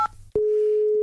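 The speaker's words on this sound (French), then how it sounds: "Ok Brigitte, j'appelle Pierre Arditi." A telephone call tone for a phone call, a short pair of beeps followed by a steady, clear electronic dial tone that holds alone to the end.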